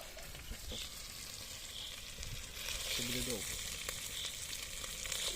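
Chakhokhbili (chicken stew) ingredients sizzle and crackle in a hot cauldron, a continuous hiss that grows a bit louder midway, with occasional clinks of a utensil.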